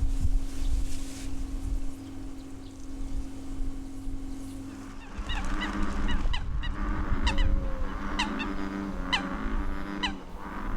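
Coots at a floating nest call during a territorial dispute with a neighbour. After a low, rumbling background, a burst of honking, nasal calls breaks out and repeats in quick, overlapping bouts, fairly close, with no speech.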